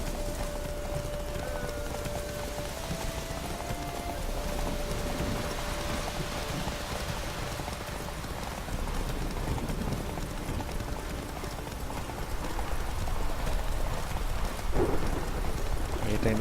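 Galloping horse hooves in The Witcher 3 video game, a steady clip-clop running throughout along a road, with rain-like ambience and game sounds, and a voice talking over it.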